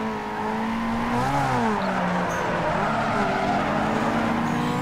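A front-wheel-drive Honda VTEC car drifting in Need for Speed Underground 2, engine revving and rising in pitch with a steady tire squeal, loud and continuous with no talking.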